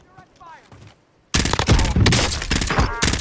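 Sudden loud burst of gunfire in Call of Duty Warzone at Verdansk, rapid shots hammering close after a quieter moment, with a player talking in the background.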